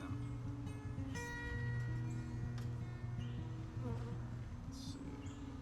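Honey bees swarm around an open hive during a summer varroa mite treatment check, a dense, continuous buzzing drone filling the scene with steady intensity.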